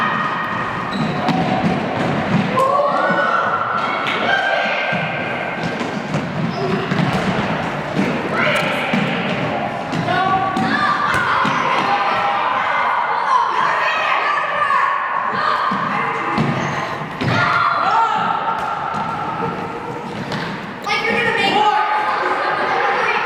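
Children in a PE class play a soccer-basketball ball game, with repeated thumps of the ball amid continuous shouting and chatter from the group, loud and busy throughout.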